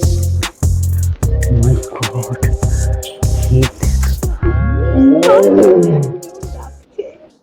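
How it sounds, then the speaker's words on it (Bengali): A tiger roars at close range in the hills of Darjeeling. It gives a long run of loud, rough, repeated roars and growls that fade at the end. "বাঘ ডাকছে।"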